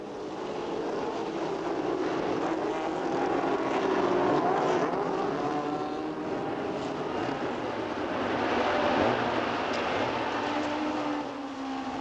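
Race cars speed around a circuit in a televised motor race, producing a steady, continuous engine roar and whine throughout with gentle swells as cars pass, no talking.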